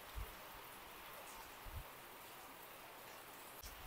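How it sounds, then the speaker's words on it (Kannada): Steady heavy rain pours down outdoors during a sudden downpour after sunshine, a dense even hiss of drops with a few soft low thumps, fairly faint and continuous with no talk. "ಇವಾಗ ಮಳೆ ಬರ್ತಾ ಇದೆ"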